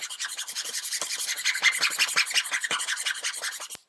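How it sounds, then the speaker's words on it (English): A hand file rasping across a circuit board, close and fairly quiet, with quick regular back-and-forth strokes of dry scraping, about four strokes per second, with no talking. "The filing actually took about 15 minutes, of which you only get to see two."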